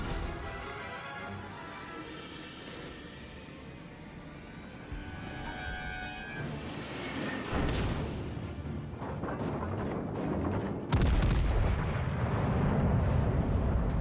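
Naval gun shells firing in World of Warships Legends, Graf Spee against Dunkerque, as a dense continuous roar of heavy booms and rumbling blasts that grows louder, with a sharp surge near the end.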